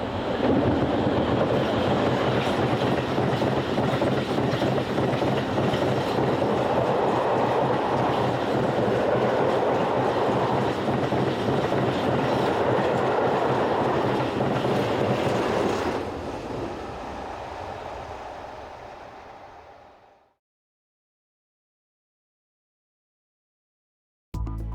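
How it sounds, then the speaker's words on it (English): Freight train led by locomotive 36021 hauling empty steel coil wagons westward, a loud, steady rumble of passing wheels and wagons that continues for about fifteen seconds, then fades away and falls silent. "number 36021 is seen returning empty steel coil wagons west"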